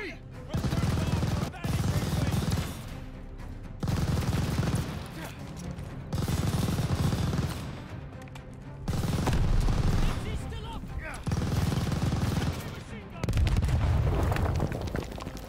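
Heavy machine gun fire rattles in the Call of Duty Vanguard battle to take the bridgehead, sustained loud bursts separated by short pauses, with explosions and shouted voices mixed into the gunfire.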